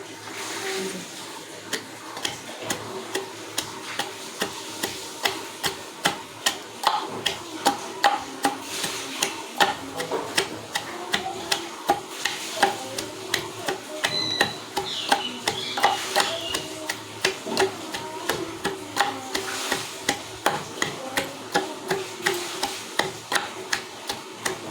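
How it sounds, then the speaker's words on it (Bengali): Chutney ingredients crushed with a rolling pin, a steady run of sharp, regular thuds and pounding knocks repeating about every half second, close and fairly loud, with no talking. "বেলনা দিয়ে থেতো করবো"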